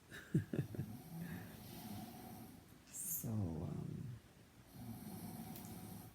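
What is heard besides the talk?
person snoring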